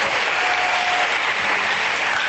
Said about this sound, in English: I want you to clap really loud.